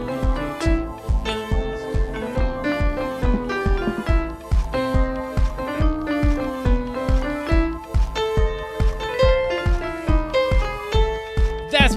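Piano plays a tune at full speed, a steady pulsing run of bright repeated notes over low bass hits, close and clear with no talking.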